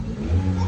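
A Toyota Vios engine that had lost compression revs up smoothly and evenly with no misfire, a close, steady mid-pitched rise in engine tone.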